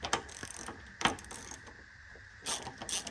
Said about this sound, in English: The first 2 bolts I'm gonna take off are these bottom ones right here that hold the condenser.